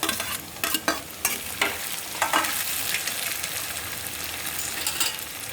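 Tomatoes frying in a hot pan, a constant close sizzle with several quick scraping stirs early on that then settle into even bubbling, with no talking.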